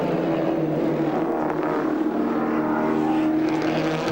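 A race car in the 1991 Bathurst 1000 misfires and struggles with a spark plug problem, its rough engine a loud, continuous, ragged drone that holds steady throughout with no voices.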